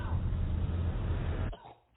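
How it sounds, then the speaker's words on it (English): A single rough cough from a person wearing a mask on a plane, short and close, followed by a quick fade to quiet. "Just wear the mask and cough."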